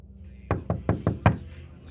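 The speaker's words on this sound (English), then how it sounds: "A loud knock on my door stole my attention." Five sharp, evenly spaced knocks land on a door in quick succession, loud and close against a quiet background with no voices.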